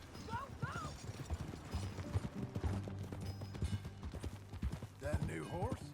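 Horse hooves clip-clop at a steady ride in Red Dead Redemption 2, with a short whinny and game music and characters talking over the hoofbeats.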